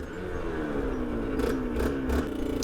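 A two-stroke Aprilia RS 125 motorcycle engine with a rebuilt motor drones steadily nearby, its pitch rising gently, with a few rough bursts of revving near the end.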